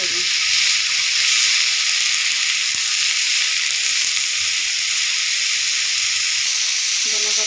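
Coriander leaves fry in a pan with a loud, steady hiss and sizzle that holds evenly throughout, close up and alone.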